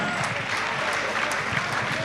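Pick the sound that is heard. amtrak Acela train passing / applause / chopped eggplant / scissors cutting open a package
applause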